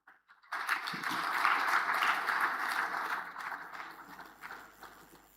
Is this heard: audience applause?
yes